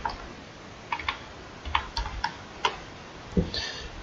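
Scattered keystrokes on a computer keyboard as a short command is typed into a PC's command prompt, a handful of crisp, close clicks in an uneven rhythm against quiet hiss.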